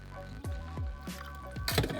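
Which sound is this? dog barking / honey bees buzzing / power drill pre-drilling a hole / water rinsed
water rinsed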